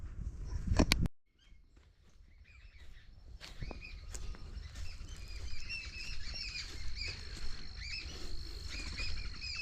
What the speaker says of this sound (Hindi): पक्षी की आवाज़ को सुनिए।